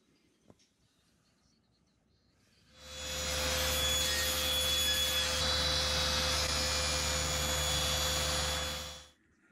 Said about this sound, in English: there are two different router bits that basically create an interlocking joint